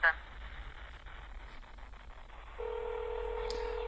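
A telephone call is being transferred: a short beep opens the clip, then faint line noise, and a steady dial-type tone comes in and holds to the end, quiet and without speech.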